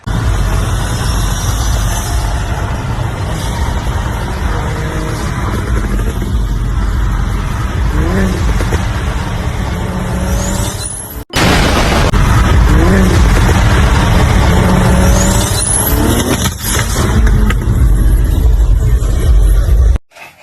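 Sustained loud engine roar from a BMW 335i with a single-turbo N54 engine at the moment its turbo fails, broken by a sharp cutout near the middle before the harsh running resumes.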